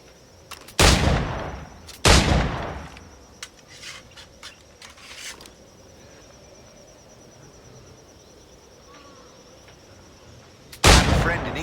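Firearm shots in Assassin's Creed IV Black Flag: two loud close bangs about a second apart, a long quiet stretch with faint clicks and ambience, then one more sharp shot near the end.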